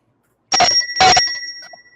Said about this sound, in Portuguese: Agora sim o Marcelo chega com o seu sino encantado aí.